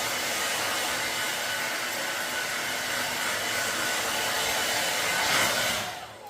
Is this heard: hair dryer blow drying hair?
yes